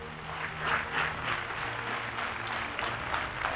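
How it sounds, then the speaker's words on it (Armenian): A seated audience applauds the legendary Ararat football team players before a film screening. The clapping is steady and moderately distant and continues throughout. "Արարատ 73 ֆիլմի ցուցադրումից առաջ նախ ծափեր լեգենդար թիմի ֆուտբոլիստներին"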